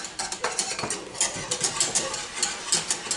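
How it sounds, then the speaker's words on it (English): A whisk stirs thickening banana pudding in a pot, making quick rhythmic scraping and clinking strokes at close range, with no voices over it. "Back to my whisk."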